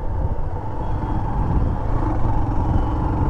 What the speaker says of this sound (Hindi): अब स्मूथ चल रही है गाड़ी, ये देखो।